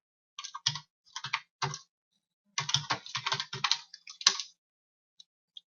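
Computer keyboard typing, close and clear, in several quick bursts of clustered keystrokes separated by short pauses, then two isolated clicks near the end.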